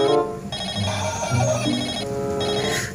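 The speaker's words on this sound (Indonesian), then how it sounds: "Ada telepon juga." A toy telephone plays a continuous electronic ringing melody for several seconds, bright and fairly close, with no talking over it.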